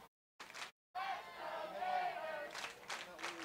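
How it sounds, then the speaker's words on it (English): A stadium crowd at a college soccer match between Florida and UCLA raises a sustained cheer and chant, rising and swelling for a couple of seconds amid scattered shouts. "can hear this crowd trying to cheer on Florida"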